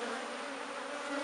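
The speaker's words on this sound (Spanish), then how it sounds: "Como pueden ver, llegó bastante abeja." Many bees buzz at a hive during robbing, a dense steady drone close by with no voices.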